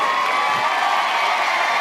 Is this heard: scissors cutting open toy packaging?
no